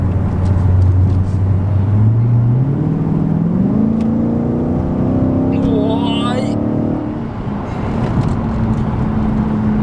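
A Dodge muscle car with a naturally aspirated 6.4-litre V8 accelerates from inside the cabin, its engine tone climbing steadily through a long pull and shifting up, loud and droning, with a voice talking over it.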